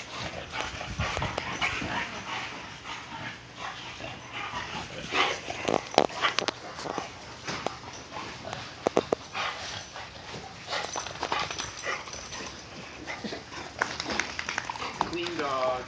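A boxer dog makes close snuffling, whimpering and scuffling noises, mixed with people talking and handling sounds.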